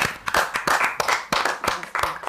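Clapping at a comedy show's mock tribunal, a handful of sharp, uneven hand claps in quick bursts, close and fairly loud, with brief vocal sounds between them.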